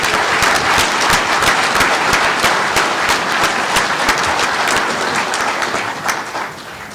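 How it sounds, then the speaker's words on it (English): A convention hall audience gives a round of applause for Legionnaires at a general session: dense, loud, sustained clapping from a large crowd for about seven seconds, easing slightly near the end. "let's have a round of applause for these Legionnaires"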